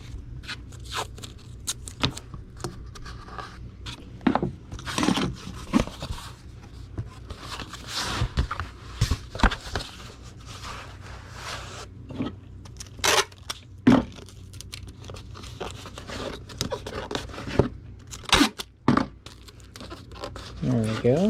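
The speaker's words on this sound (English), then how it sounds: "Tape it down." Packing tape is pulled and pressed down on a Gemini mailer holding comic books for shipping, with crinkling, tearing and rustling in uneven bursts up close, and a person speaking now and then.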